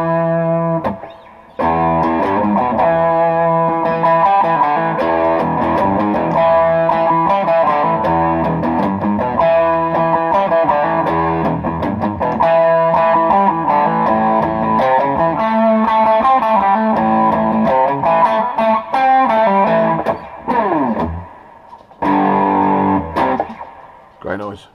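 Distorted electric guitar riffs play loudly through a Victory V40H Duchess amplifier with effects pedals, thick sustained chords and chugging notes filling the space, with brief pauses near the end.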